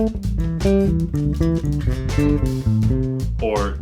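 A quick electric guitar pentatonic lick of short, distinct melodic notes stepping up and down in steady succession, played clearly and fairly loud with no voices.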